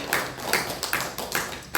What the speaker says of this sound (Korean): 나오실 때 박수로